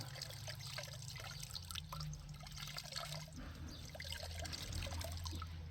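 Water trickles and splashes steadily as a bag of worm castings is rinsed in a container to make worm tea, a close, continuous liquid wash with low gurgling underneath.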